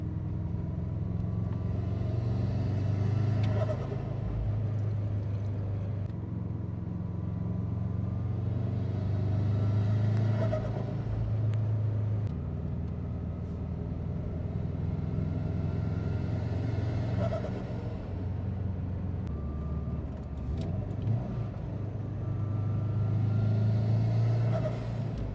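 A tuned Subaru Impreza STI with upgraded turbo and intercooler drives along steadily, its low engine rumble and road noise continuous and close, with no one talking.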